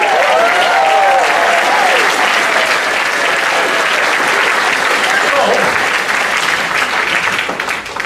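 Audience at a Wellington 150th anniversary celebration in Prince Edward County cheers and applauds loudly, a dense steady roar of clapping with whoops and voices mixed in, sustained throughout and easing slightly at the end.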